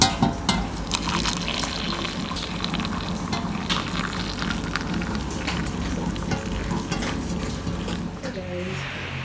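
Saltfish fritters frying in a pan, a steady close sizzle and bubbling hiss with occasional clinks and scrapes, a voice faintly present at times.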